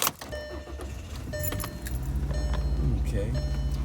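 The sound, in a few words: Volkswagen Passat car being started with keys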